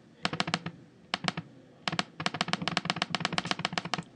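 Rapid computer mouse clicks in a web browser, sharp close taps in quick bursts with short pauses between, crisp and fairly loud, with no voice.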